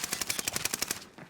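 Rapid automatic gunfire in a video game gunfight, a steady close burst of about a dozen evenly spaced shots that stops abruptly.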